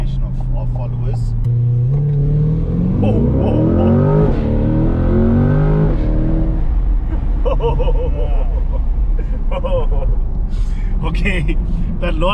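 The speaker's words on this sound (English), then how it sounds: "that launch control, bro, was sick" An imported Corvette C8 launching hard under launch control, its engine note climbing through rising revs with shifts in between, loud and close from inside the cabin, with talking over the acceleration.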